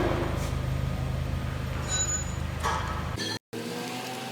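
A Toyota Fortuner engine rumbles nearby and then fades as it drives off, followed by a brief cut and quieter background noise.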